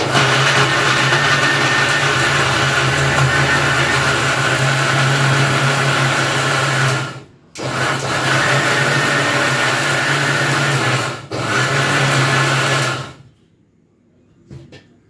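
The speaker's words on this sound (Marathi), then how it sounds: "सगळं मिक्सरमध्ये मिक्स करून घेणार आहे" A mixer grinder blends solkadhi ingredients with water, a loud continuous whirring roar that stops briefly twice, running about thirteen seconds before falling quiet.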